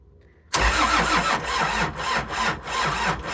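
A small engine with an unfixed stop cable cranks repeatedly after a brief quiet moment, its rhythmic chugging pulses loud and close as it tries to catch.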